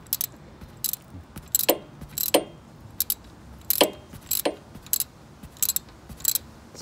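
A wrench tightens a part during an oil change on a 2003 Harley-Davidson Road King, giving a series of sharp metallic ratcheting clicks in irregular bursts, close and crisp against a quiet background.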